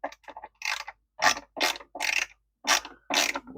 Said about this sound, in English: I love these ratcheting screwdrivers from Snap-on.